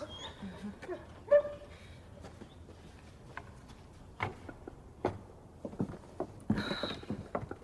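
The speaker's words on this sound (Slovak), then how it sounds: "Aké nešťastné zvuky. To je len pes." A dog shut in its kennel whimpers in short, faint whines and yips, scattered over several seconds amid quiet rustling and small knocks.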